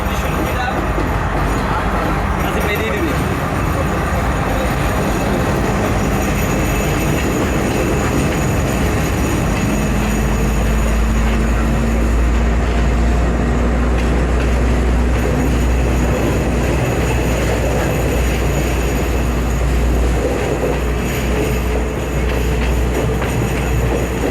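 A train rolls into Colombo Port station in Sri Lanka, loud and close, with a continuous rumble, rhythmic clatter of wheels and a rising squeal, while voices talk faintly in the background.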